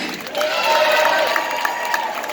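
Crowd aboard a cruise ship applauds and cheers for a belly flop contest finalist, a steady wash of clapping and shouts with some voices mixed in.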